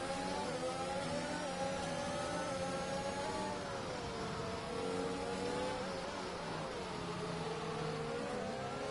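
A race car engine in an esports racing game, steady and loud throughout, its revving pitch rising and falling through gear changes with no talk over it.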